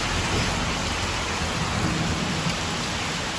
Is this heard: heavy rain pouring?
yes